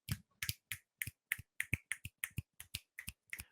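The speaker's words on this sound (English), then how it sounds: "snap your fingers for those who are hard of hearing" About fifteen crisp finger snaps from a meeting audience in a steady, fairly quick rhythm, close and distinct with silence between each.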